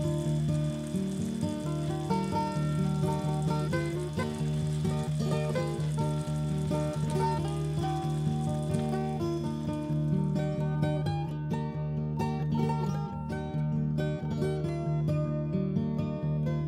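King prawns frying in a pan for Spanish seafood paella: a steady, loud sizzle runs throughout, close up, with music playing underneath and no talking.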